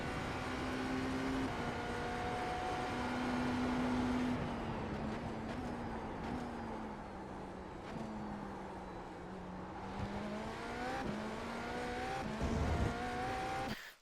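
A GTP prototype race car in the iRacing simulator runs at full speed through a section of track, its engine a steady high-pitched drone that dips and rises with gear changes, joined by brief tire squeal, with no talking.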